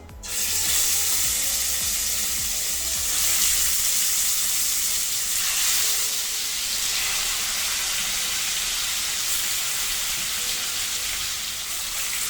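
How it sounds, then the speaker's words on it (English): Chicken pieces for an Old Delhi-style Chicken Changezi sizzle in two to three tablespoons of oil in a pan, a steady loud hiss and crackle throughout with no talking. "So we have taken around 2 to 3 tablespoons of oil in a pan, and one by one we will fry these pieces."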